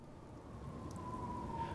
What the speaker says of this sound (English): The rain falling when I left Gujo Mansion has now turned into a drizzle.